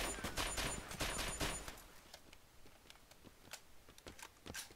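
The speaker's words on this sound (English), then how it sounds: "What are you shooting at" Gunfire in the video game Arma 2: rapid bursts of automatic shots crackle in a dense volley, then thin into scattered single cracks at moderate loudness, with no talking.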